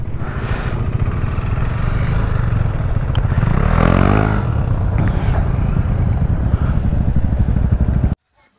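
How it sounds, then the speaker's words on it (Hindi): Motorbikes, including a Honda CB200X, a Royal Enfield Meteor and a KTM Duke 390, rumble and idle nearby while being moved into parking at a desert resort camp near Jaisalmer, with a steady engine drone and a brief rev swell midway before cutting off. "पहले लगाते हैं हम बाइक्स को पार्किंग में"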